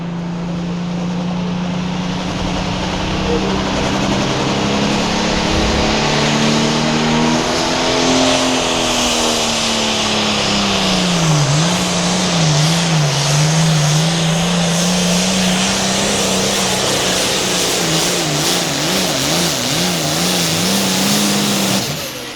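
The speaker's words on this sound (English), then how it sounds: "is slowly taking them RPMs up, getting that boost to where he wants it at" A tractor in an 8,500 lb class pull at Mound City, Missouri, loud and close, its engine droning steadily while the revs are slowly raised to build boost, pitch wavering and climbing with a roaring, continuous exhaust.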